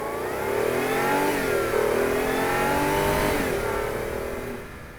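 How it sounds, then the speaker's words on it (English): Supercharged 3.0-litre Audi A6 C7 under full throttle through quick upshifts, a loud sustained engine howl rising in pitch, dipping briefly at each shift and climbing again, with no talk over it. "Full throttle upshifts are very,"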